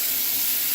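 Garlic and onion frying in a hot pan for a beef and broccoli pad thai, an even, continuous sizzle of hissing oil, close and loud, lasting under a second.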